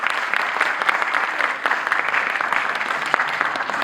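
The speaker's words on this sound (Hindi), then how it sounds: "जोरदार तालियां फॉर आर डी." Loud audience applause at a ghazal album launch event, a thick continuous clapping from a large crowd holding steady throughout.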